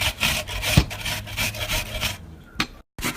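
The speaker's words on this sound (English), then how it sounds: "I shred this onion with this grater" An onion rasped against a grater in repeated close, loud strokes, with a brief pause near the end; no talk.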